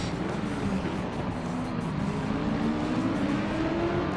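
A GT3 race car engine accelerating around Monza in a racing video game, a continuous loud engine drone with pitch slowly climbing as it revs, heard alone without talk.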